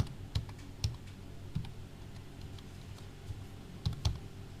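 A name being typed on a computer keyboard in accounting software, with a handful of sparse, separate key clicks at an unhurried pace, close and quiet, with no talk.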